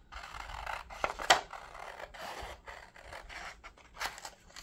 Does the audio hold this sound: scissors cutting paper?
yes